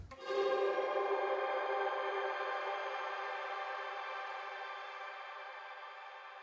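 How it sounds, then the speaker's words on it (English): Guitar through a shimmer reverb on its sheen setting: one struck chord blooms into a bright, octave-rich wash that sustains and slowly fades over several seconds, heard alone. "So here is the sheen setting."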